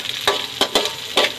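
Red onion tipped into a pan of garlic already frying, giving soft sizzling bursts with a few stirring scrapes at a close, steady level and no talk.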